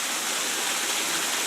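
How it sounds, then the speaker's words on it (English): Heavy rain pours down in a dense, unbroken hiss, loud and close, with no voices over it. "it is raining and I am getting wet right now"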